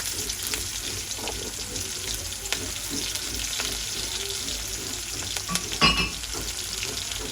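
Onion, green chili and cumin frying in oil in a pan, a loud continuous hissing sizzle with crackles and occasional stirring scrapes, close up and steady with no talk.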